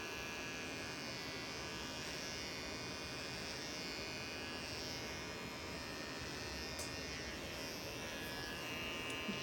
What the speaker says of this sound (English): Alright, so now I'm going to go back in with the blade. I'm going to shave.